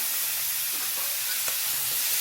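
Onion and tamarind sautéing in a pan for tomato peanut chutney, a steady hiss of sizzling and frying with faint stirring scrapes throughout.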